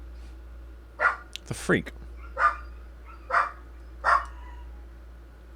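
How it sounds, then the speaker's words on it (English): Batman the dog barks several times in short, sharp, evenly spaced bursts, fairly close, with a brief spoken remark slipped in between barks. "Because he hears Batman barking"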